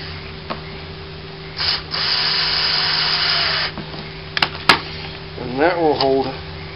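A power drill whirs into a plastic bottle cap to drive a screw hole, a steady close buzz lasting about two seconds, followed by a few clicks and short scraping rubs.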